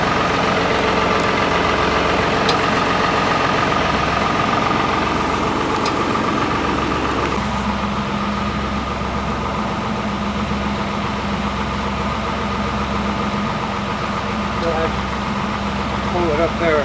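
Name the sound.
tractor engine running while stuck on a log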